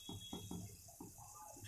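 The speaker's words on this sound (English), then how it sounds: "the water has come for a boil" A pot of water at a boil for semiya upma bubbles and gurgles in uneven bursts, soft and fairly close, with a faint steady hiss underneath.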